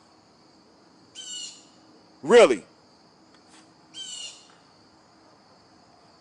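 Outdoor birds give two separate harsh, squawking calls a few seconds apart over quiet background hiss, with a short spoken exclamation between them.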